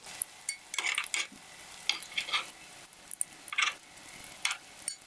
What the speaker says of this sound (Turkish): Köftelerim yeteri kadar kızardı.